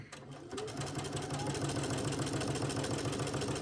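A sewing machine stitches a medieval men's vest, its steady rapid mechanical chatter starting after a brief pause and running continuously up close.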